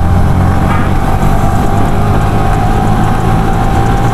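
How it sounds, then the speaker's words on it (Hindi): A motorcycle in fourth gear slowing under engine braking with the brakes released, a steady loud close engine drone mixed with wind rush throughout. "अभी मैं फोर्थ गियर पे हूँ, मेरे को ब्रेक लगानी है, ये देखो मैं ब्रेक छोड़ दिया मैंने सब कुछ, और ब्रेकिंग लग रही है"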